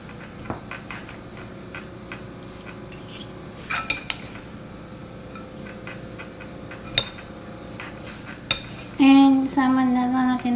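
Lumpia filling with carrots is stirred in a bowl, giving irregular utensil clinks and scrapes against the dish at close range, with a short louder clatter near the end.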